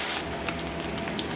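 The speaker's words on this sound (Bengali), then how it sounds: "এবার এই পিঠেও আমরা এইভাবে লাল লাল করে ভেজে নেব।" Catla fish frying in a pan after being flipped, a steady close sizzle with light crackling pops throughout a short stretch, fairly quiet and alone.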